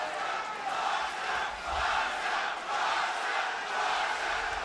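A boxing arena crowd chants in a rhythmic, pulsing roar that swells and dips in repeated waves, loud and distant-sounding, during the opening round of a classic fight.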